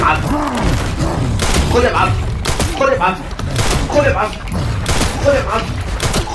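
Repeated sharp gunshots in the video game Resident Evil Requiem ring out in bursts, mixed with thuds and someone talking excitedly over the shooting.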